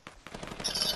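Gunshots in Fortnite, a rapid burst of close, sharp shots in quick succession that grows louder and brighter toward the end.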